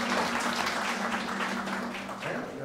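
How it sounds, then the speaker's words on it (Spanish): A crowd at a Christian family movement gathering applauds steadily for a few seconds in a large room, dense clapping at moderate volume that slowly fades. "¡Un aplauso!"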